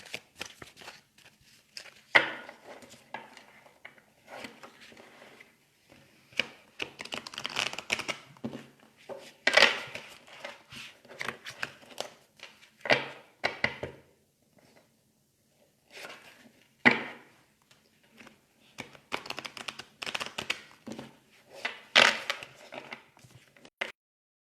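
Oracle cards are shuffled by hand in repeated bursts, crisp riffling and rustling clusters close up, separated by short quiet pauses, with no talking during the shuffle.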